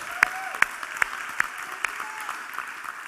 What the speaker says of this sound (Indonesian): Tepuk tangan itu yang baik.